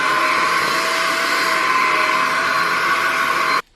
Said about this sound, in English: I'm going to hoover my room because I haven't hoovered in so long